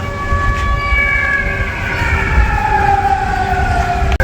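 An air raid alert siren wails during the war in Ukraine, loud and sustained, its tones sliding slowly downward over several seconds against a low background rumble.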